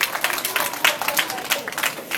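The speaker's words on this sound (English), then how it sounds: "Give her a nice round of applause." A school chapel audience gives a short burst of clapping and crowd noise, lasting about two seconds at a fairly steady, lively level.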